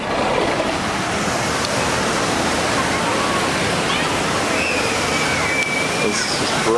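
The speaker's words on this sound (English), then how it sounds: "But the waves are awesome." Ocean surf rolling in at Panama City Beach, heard from a wide beachfront balcony on Front Beach Road as a steady, loud wash of breaking waves with no pauses, spread across the whole stretch.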